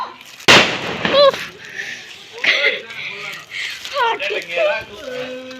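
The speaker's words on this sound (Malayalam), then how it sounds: "ഞങ്ങൾ ദേ പടക്കം പൊട്ടിക്കാൻ പോവാണ്." A single sharp firecracker bang bursts loudly near the start during Vishu celebrations in Malayattoor, Kerala, followed by excited voices talking and shouting nearby.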